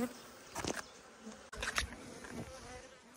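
Honeybees buzzing around hives at an apiary during spring checks, a faint airy buzz with a few closer bees droning past the listener in brief passes.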